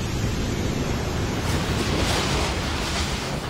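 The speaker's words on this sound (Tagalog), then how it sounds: "hinampas ng malalakas na alon ang isang resort sa Dipakulaw" Strong waves pound a resort in Dipakulaw, Aurora, during Typhoon Pepito, a steady loud roar of surf and wind noise with no pauses and no talk.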